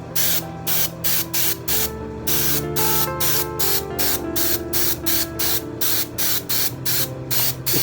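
Repeated spray bursts hit silicone mold positives on Ultracal, each a loud hissing blast separated by short pauses in a steady, even rhythm, close and alone.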